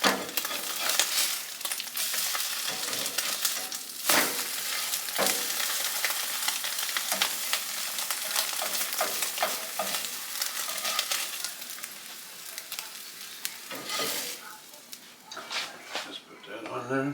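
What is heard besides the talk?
biscuits frying in butter in pan on stovetop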